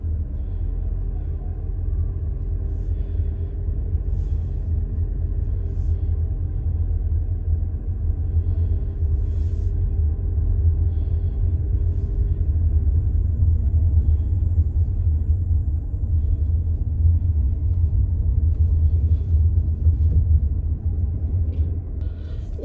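Car engine droning low and steady while being driven around a village, a constant close rumble with faint occasional clicks and no talk.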